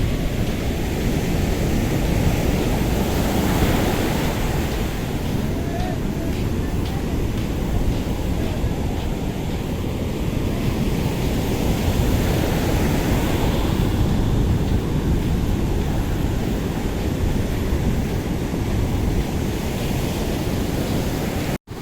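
Waves and wind at Calangute Beach in Goa make a continuous broad roar of surf with gusty wind buffeting the microphone, loud and steady throughout.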